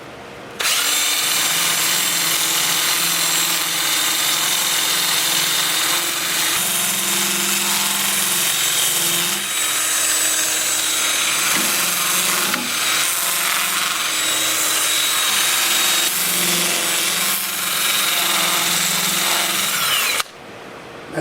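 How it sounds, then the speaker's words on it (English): A 2-inch sanding disc on a power drill works over turned wood on a lathe, a continuous loud whirring and rubbing drone that holds steady for about twenty seconds, close by, with slight shifts in pitch as pressure changes. "I'll switch to my 2-inch disc starting at 80 grit and working up through 400, and I'll sand the turn parts"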